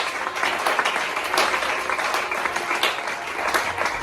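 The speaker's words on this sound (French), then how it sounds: "On acclame le Seigneur Jésus." A church congregation bursts into loud, sustained applause in praise of the Lord Jesus, dense clapping from many hands filling the hall throughout.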